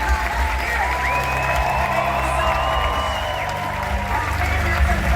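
Audience applause fills a Comic Con Wales hall after a celebrity guest is introduced, a steady dense clapping from a large crowd with faint cheering, holding at an even level throughout.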